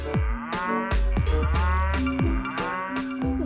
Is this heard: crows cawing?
no